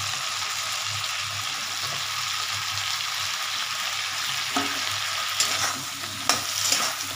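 Cauliflower and potatoes frying in shrimp-flavoured oil, a dense continuous sizzle close by with occasional stirring clatters near the end, no talking.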